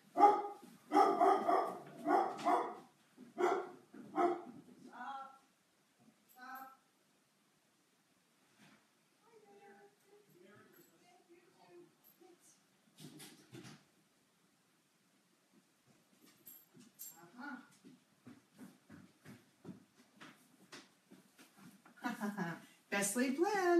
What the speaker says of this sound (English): Naturally, there's a dog, and there's a doorbell.